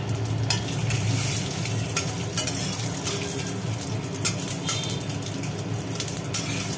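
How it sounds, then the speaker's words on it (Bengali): Cumin seeds, bay leaf and dried red chillies sizzle and crackle steadily in hot oil, with occasional clinks and scrapes of a spoon stirring the pan and no voices. "তেল গরম হয়ে গেল জিরে করুন তেজপাতা শুকনো লঙ্কা"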